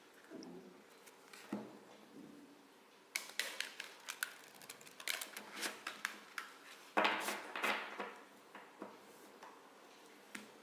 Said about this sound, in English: I'm gonna shuffle the cards until I feel the deck is ready